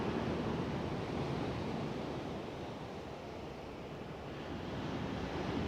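Steady broadband rush of ocean waves, continuous and moderately loud with a slow swell in level, heard alone without any voices.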